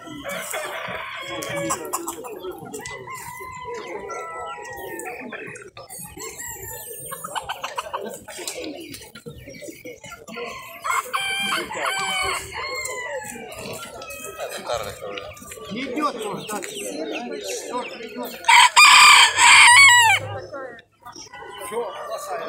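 Amid a busy fair with poultry on show, a rooster's crow rises briefly over a background of clucking, chirping birds and people talking nearby.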